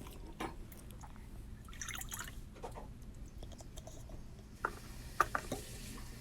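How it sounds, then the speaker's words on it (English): Warm milk is poured into a bowl in a kitchen, giving a soft, steady liquid trickle with a few faint drips near the end, heard alone with no talking. "once it's warm, you're going to add it into a bowl."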